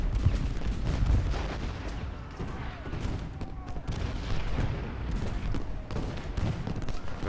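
Civil War cannon and musket fire rumble continuously in Ultimate General: Gettysburg, with repeated booms and crackling volleys layered at mid-distance and a voice speaking over the battle.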